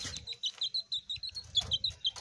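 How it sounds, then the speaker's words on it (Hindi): A young chick on a rooftop cheeps in a rapid series of thin, high, repeated peeps, close and fairly loud, with light background noise from rain. "ये है जी हमारा चूज़ा"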